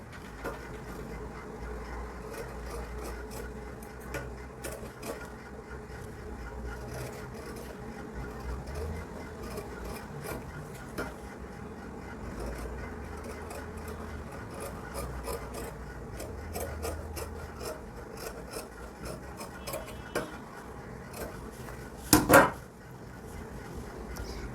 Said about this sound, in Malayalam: ഇനി ഇത് നമുക്ക് കട്ട് ചെയ്തെടുക്കാം.